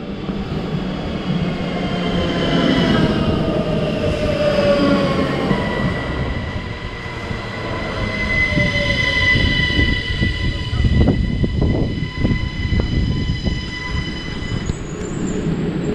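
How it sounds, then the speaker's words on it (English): An electric SNCB AM 08 Siemens Desiro ML passenger train pulls in with rising rumble, high squealing wheel tones and metallic screeches as it slows, loud and close by. "here you can see my train arriving"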